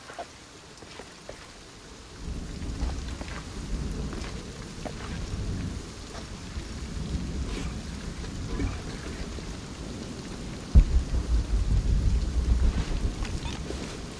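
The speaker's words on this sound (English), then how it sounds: "This storm is coming in quick." Heavy rain pours during a thunderstorm in the video game Shadow of the Tomb Raider, a dense continuous wash with low rumbling underneath that grows louder and rougher toward the end.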